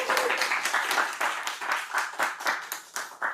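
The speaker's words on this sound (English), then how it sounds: "a big round of applause to Pinshu." Small meeting group clapping for a member, a brief scattered round of claps with uneven bursts, fairly close and alone.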